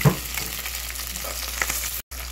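Fish frying in hot oil, steady faint sizzle throughout with a few brief stirs, no speech.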